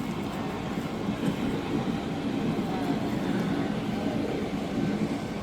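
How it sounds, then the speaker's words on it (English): A model steam locomotive shoving a string of boxcars from the rear on a model railroad layout at a show, a steady close rumble with faint rhythmic clicking over continuous hall noise. "it looks like we've got a rear shove here with some boxcars. Another steam locomotive."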